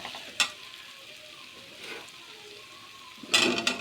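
Masala is stirred into mushroom gravy frying in a pan, with a low simmering sizzle broken by two sharp scraping, clattering bursts of the spoon, one early and one near the end.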